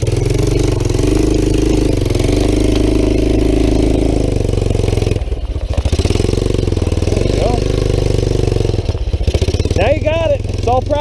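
A three-wheeler's engine chugs and idles loudly up close, its revs swelling briefly as the rider gives it gas, while a voice talks over the steady rumble.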